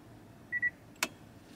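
Inside a Toyota Roomy, the electric parking brake switch gives two quick, high, clean electronic beeps in a row, followed a moment later by a single sharp click, all in a quiet cabin.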